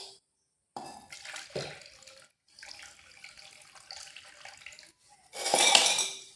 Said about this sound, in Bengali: এখন এই গরম জলটা ফেলে দেব।